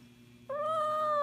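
A cat meows during nail trimming, a single close, drawn-out plaintive cry rising suddenly out of a quiet room hum and holding to the end.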